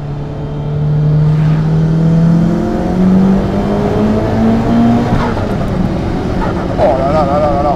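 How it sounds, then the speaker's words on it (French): A twin-engine Audi TT sports car with 1002 horsepower accelerates hard toward 7000 rpm on the autobahn, a loud close engine note climbing steadily in pitch through the gears, with someone talking briefly near the end. "Je vais juste vous faire une petite accélération de jusqu'à 7000 tours,"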